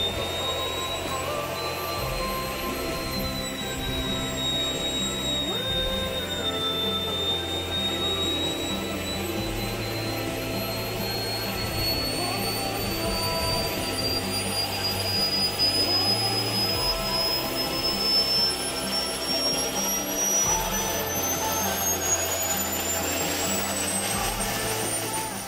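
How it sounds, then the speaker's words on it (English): A model helicopter's turbine jet engine runs steadily with a high whine that slowly climbs in pitch over a rough roaring base, loud and continuous throughout. "obviously didn't want to annoy the neighbours with a jet engine in the background"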